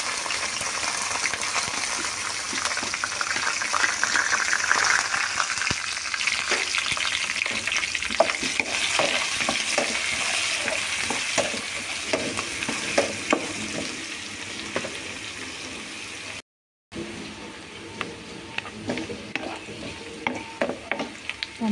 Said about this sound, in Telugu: ఇవి వేగాక ఉల్లిపాయ, పచ్చిమిరపకాయ ముక్కలు వేసేసుకోవాలి.